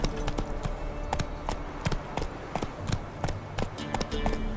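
Hooves of Roach, Geralt's horse in The Witcher 3, clop in a steady trotting rhythm. The steps are close and distinct over a low ambient game backdrop.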